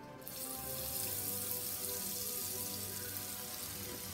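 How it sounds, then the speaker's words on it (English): Steady, dense crackling sizzle of a corn dog frying in hot oil, close and continuous with no talking. "Gently put the corn dog into the hot oil."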